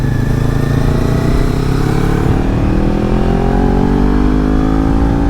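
A 2022 Kawasaki Ninja 400 accelerates hard through a corner, its engine note climbing steadily in pitch as the revs rise, loud and close with wind rushing over the microphone.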